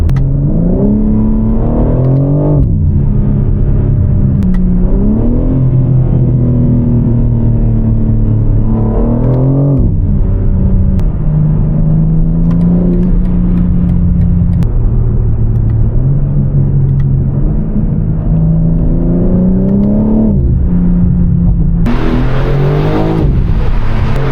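A powerful Dodge Hellcat engine, running low on fuel, revs loudly in a series of quick pulls, the pitch climbing and dropping repeatedly, with a sharp burst near the end.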